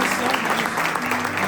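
Church audience applauding its pastors, a brief dense burst of clapping at close range with a low sustained tone beneath it.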